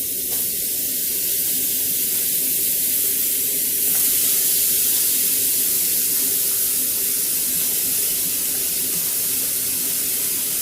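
Steak strips sear in a hot, dry pan with no oil, cooking in their own fat. A loud, steady sizzling hiss runs throughout and swells briefly partway through, with no voices.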